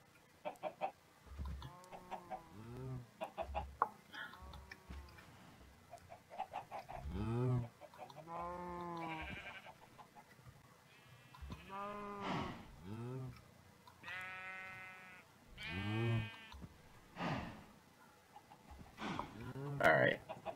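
Chickens in a Minecraft chicken pen cluck and squawk in a string of short, close calls, some with sheep-like bleats mixed in, over faint game background.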